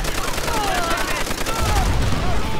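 Gunfire in the video game Call of Duty: World at War, played in co-op: dense, rapid bursts of shots crackle continuously for a few seconds, loud and close, over a busy bed of game sound.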